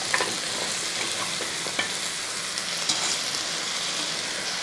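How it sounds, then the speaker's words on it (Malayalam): Chopped taro stems dropped into a hot pan, a dense steady sizzle with a few light clicks of stirring, close and fairly loud. "ഈ അരിഞ്ഞ് വെച്ചിരിക്കുന്ന ചേമ്പത്തട അങ്ങോട്ട് ഇട്ട് കൊടുക്കുക."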